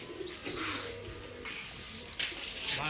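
Young pigeons, squabs of the ratte dabbe breed, give soft coos and chirps nearby, faint and steady with no talk.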